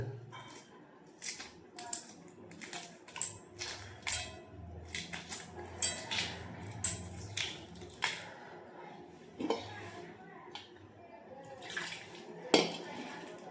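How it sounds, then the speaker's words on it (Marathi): Hot boiled eggs are peeled by hand in a home kitchen for an egg curry, with soft cracking and crinkling shell taps and small clinks against a dish, irregular and close, under a faint quiet background. "गरम गरम आहेत अंडी अंडी आपण सोलून घेऊया असं"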